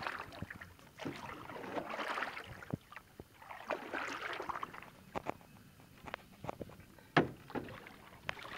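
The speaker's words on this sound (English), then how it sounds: "You might need me to help you paddle." Paddle strokes dip and splash at intervals as a canoe or kayak moves against a strong river current, with soft water swishes and a few sharper knocks against the hull, close by and fairly quiet.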